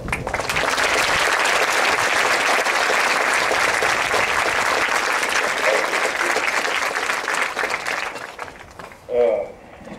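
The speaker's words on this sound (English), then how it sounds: "These gentlemen and ladies are the ones y'all need to give them a big round of applause for." An audience at a Veterans Day ceremony gives a long, loud round of applause honouring veterans, steady clapping for about eight seconds that tapers off, followed by a brief voice.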